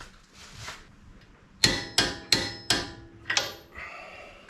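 A wrench tightens a tie rod end on a Toyota FJ Cruiser during a front coilover lift install, giving five sharp metallic clicks in quick succession, close and clear, after a faint rustle.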